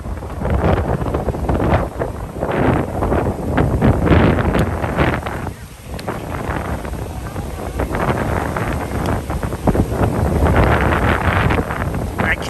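Strong wind buffets the microphone on a street in Fort Lauderdale, Florida during spring break, a loud continuous roar that swells and dips throughout with only brief lulls.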